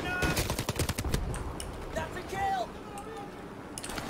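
Rapid bursts of gunfire in the Call of Duty: Modern Warfare Remastered campaign crackle loudly for the first second or so, then give way to quieter battle noise with scattered shots near the end.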